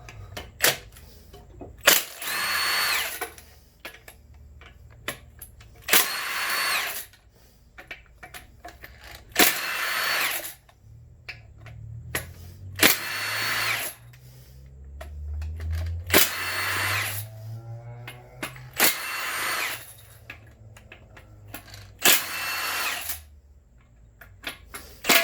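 A battery impact wrench removes bolts from a 4L60E transmission during teardown, firing in about eight sharp, loud bursts of hammering rattle separated by brief pauses, with some low knocking and clatter between them.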